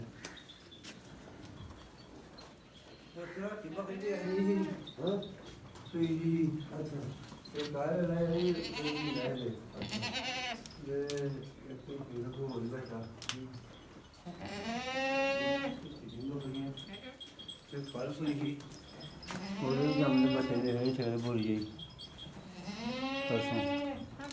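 Several goats bleat repeatedly, with loud, wavering cries coming close together and overlapping, while people talk in between and underneath.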